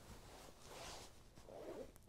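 A Milwaukee M12 heated jacket's zipper is pulled up, giving two soft rasping zips, the second longer, close and fairly quiet against a light background hiss.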